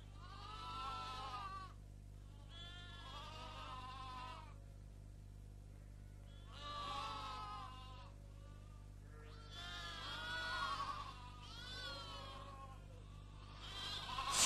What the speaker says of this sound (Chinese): 小羊羔的呼唤